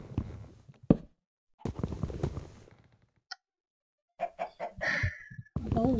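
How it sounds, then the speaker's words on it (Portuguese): Chickens in the video game Minecraft cluck in short bursts separated by silent gaps, moderately loud and close, alongside other brief game sounds. "Cala-te, galinha, meu Deus."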